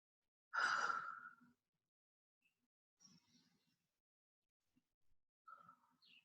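Deep breathing during a moon salutation yoga exercise: one strong exhale sigh, then softer breaths trailing off into quiet, close and isolated with no talk.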